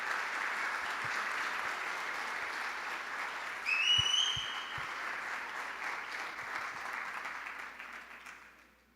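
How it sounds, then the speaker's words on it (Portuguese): A church congregation applauds in a sustained, even wash of clapping with a brief whistle partway through, then the sound tapers off toward the end. "Receba com um aplauso para Jesus."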